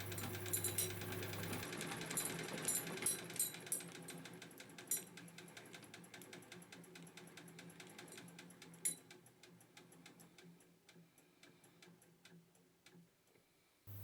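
An early Singer 66 sewing machine with Lotus decals, mounted in a Model 21 parlour cabinet, runs with a rapid mechanical ticking and clatter that starts loud and then slows and fades toward the end.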